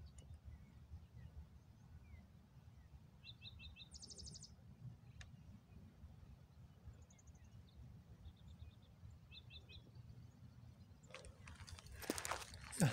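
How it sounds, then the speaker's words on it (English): A lark sparrow sings from a perch on North Table Mountain near Golden, Colorado, in May, giving short buzzy trills and chip phrases at intervals, faint and distant over low wind rumble, with footsteps or handling noise near the end. "Lark sparrow."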